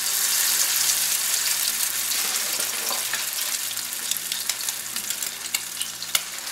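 Crab cake patties fry in hot oil in a large pan, a loud, continuous hiss with crackling spatter close up that holds steady throughout.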